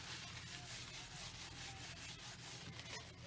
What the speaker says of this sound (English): Let's rub this one out here.